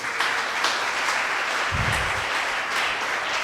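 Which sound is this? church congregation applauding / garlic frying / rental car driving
church congregation applauding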